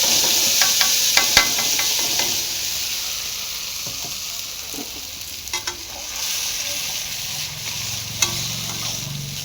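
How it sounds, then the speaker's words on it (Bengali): A tomato spice paste is cooked down in hot oil tempered with cumin seeds, hissing with a steady sizzle. Intermittent spatula scrapes and taps against the pan come and go over nearly ten seconds. "এখানে করে মশলাটাকে ভালো করে কষে নেব।"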